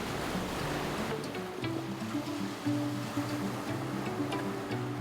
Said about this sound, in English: I don't think there's anything better than listening to the waves.